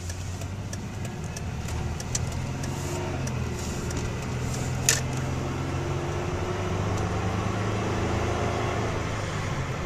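1997 Dodge Intrepid engine running during a test drive, a steady low hum with a smooth, even drone and faint clicks over it, no talking.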